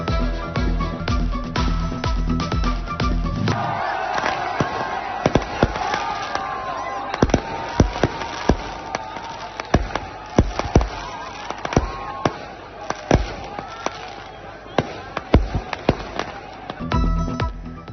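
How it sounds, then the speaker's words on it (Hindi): New Year celebration fireworks crackle and bang in a rapid, irregular series of sharp bursts over a steady rumble, with distant crowd noise and a voice speaking over parts of the display. "आतिशबाजी का खूबसूरत मुजाहरा, आसमान रंगो नूर में नहा गया।"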